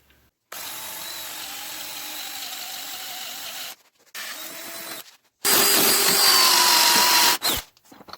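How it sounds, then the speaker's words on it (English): Power drill with a Forstner bit boring into the end of a wooden hiking stick, three loud whining bursts separated by short pauses, the last burst harsher and louder, close up with no talk. "I'm gonna try to drill my hole out there in the end of that stick. I'm gonna use this. This is a Forstner bit."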